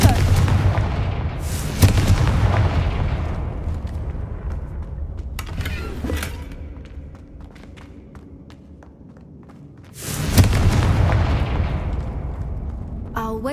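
Confringo blasting spell in Hogwarts Legacy erupting in heavy booming explosions, one at the start, another around two seconds, then a loud blast near ten seconds, with rumbling debris and quieter game ambience between.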